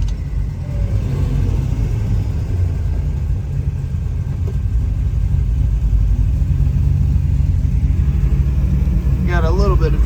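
A 427 V8 in a Chevrolet Chevelle 300 Deluxe rumbles steadily from inside the car on the road, a loud, constant low drone that builds slightly, with brief talk near the end.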